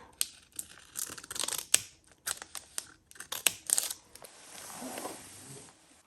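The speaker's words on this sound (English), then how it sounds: "maybe we can cut this down the middle a little bit" Scissors snipping through paper card for a junk journal, a run of short irregular cuts and rustles close by, with paper handling noises in between and no talk.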